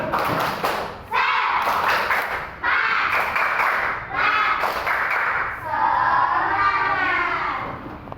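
A classroom of students doing a rhythmic group clap, bursts of sharp hand claps arriving in rapid patterned sequences, close and loud, mixed with children chanting along.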